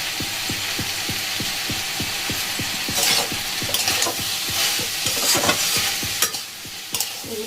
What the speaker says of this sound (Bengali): এগুলোকে খুব ভালো করে মিশিয়ে দশ মিনিটের জন্য লো ফ্লেমে আমি ঢাকা দিয়ে রেখে দেব